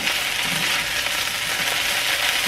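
Summer squash fries in a hot pan with cornmeal, a loud, steady, crackling sizzle close up with no voices.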